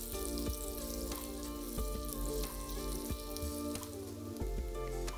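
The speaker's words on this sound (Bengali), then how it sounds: "এগুলোকে এখন আরও আধা মিনিট ভেজে নিচ্ছি।" Chopped garlic and ginger fry in butter in a pan over full heat, giving a continuous hissing sizzle under steady background music with a regular beat.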